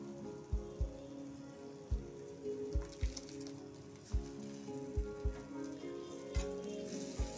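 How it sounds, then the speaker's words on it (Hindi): Tomato paste hitting spices already frying in hot oil on the stove while cooking a paneer curry: a steady crackling sizzle broken by sharp spattering pops, fairly quiet and close, with no talk. "अब हम इसमें टमाटर का पेस्ट डाल देंगे"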